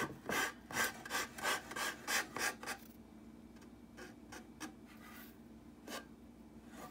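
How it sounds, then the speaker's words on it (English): A small emery stick rubs back and forth to sand off excess material on a DIY bullseye target project, about a dozen quick rhythmic scratchy strokes followed by a few fainter, sparser ones, close up with no speech. "A little emery stick, I can kind of tear off all of this excess."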